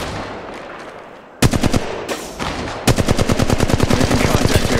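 Automatic and rapid-fire gunshots in the mobile video game Apex Legends Mobile: a short burst, then after a pause a longer, loud, steady stream of repeated shots, close and dominant.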